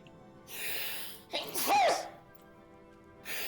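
One person gives a single sharp sneeze, close and fairly loud, preceded by a short breathy intake. Quiet stretches surround it.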